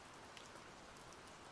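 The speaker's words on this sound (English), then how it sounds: "a faint, persistent patter begins, the sound of a soft rain gently kissing the ancient stone streets just beyond the library windows." Soft, steady rain patters on ancient stone streets outside a library, a faint, even hiss of many small drops with no voices.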